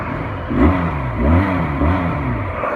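A black Benelli 500cc twin-cylinder cruiser motorcycle revs up, its engine note swelling in three repeated throttle blips over a steady idle rumble, loud and close with no talk.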